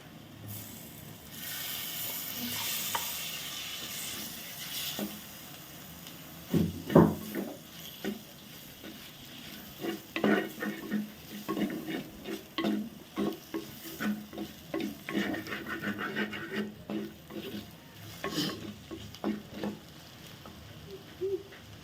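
Ripe tomato frying with chilli powder in a pan for sardine curry, a soft steady sizzle with clinking stirring strokes that grow busier later, faint and close with no talk.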